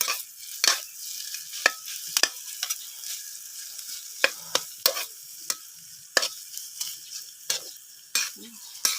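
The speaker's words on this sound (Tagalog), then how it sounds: "haluin natin ng haluin" Adobong labong, bamboo shoots seasoned with black pepper, is stirred in a pan: a soft sizzle runs underneath while a utensil clacks against the pan in quick, irregular strokes, close and crisp, with no voices.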